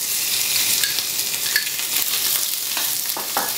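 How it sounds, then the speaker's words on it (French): Veal kidneys sear in a very hot buttered pan, giving a loud, bright hiss and crackle with scattered spits and pops, and no voice over it. "on va saisir les rognons de veau"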